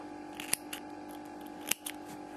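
Scissors trim off the loose yarn ends of a crocheted ribbed headband, giving two crisp, close snips over a quiet room.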